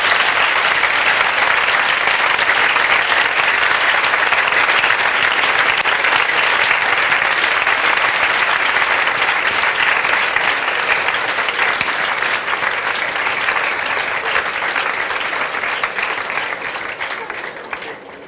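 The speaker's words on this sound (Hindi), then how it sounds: "ताली बजाओ निकलिए।" Audience applause, loud and dense clapping that carries on steadily and thins out toward the end.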